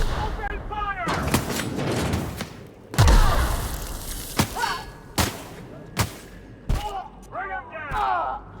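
Gunfire in The Outer Worlds: Spacer's Choice, a handful of sharp, separate shots with a heavy boom near the start, spread through a tense firefight while combatants shout in between.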